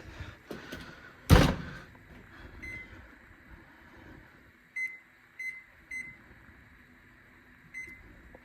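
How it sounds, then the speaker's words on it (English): Baby back ribs slide into a kitchen oven: a loud door thud near the start, then a series of short electronic beeps from the oven's controls over quiet room tone. "I'm just going to put them in the oven here."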